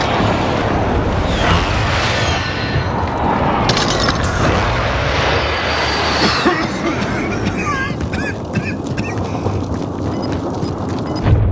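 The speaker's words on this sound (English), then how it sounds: "Be advised, friendly precision airstrike inbound." Precision airstrike explosions in a video game rumble as a dense, loud, continuous roar of blasts and debris, with scattered sharper cracks toward the end.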